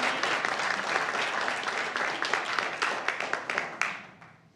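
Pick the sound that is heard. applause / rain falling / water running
applause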